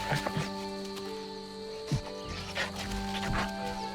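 Wolf pups at play, with scattered short yelps, whines and scuffling bursts over a steady hum, fairly close and moderately loud with no talk.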